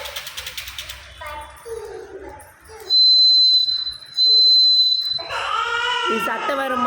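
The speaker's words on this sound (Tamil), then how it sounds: "பாருங்க, இது வந்து விசில்ஸு." Toy whistles blown at a day care, giving shrill sustained tones in a few separate bursts, some fairly long, with children and adults talking around them.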